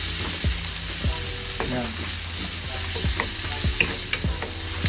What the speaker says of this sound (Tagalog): susutay lang natin to hanggang sa maging translucent yung ating onion